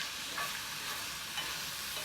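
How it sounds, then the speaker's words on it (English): Food sizzles steadily in a skillet pan on a camp burner inside a Ford Transit Connect van, an even, close frying hiss with small bursts of stirring. "Let that sizzle off for a bit."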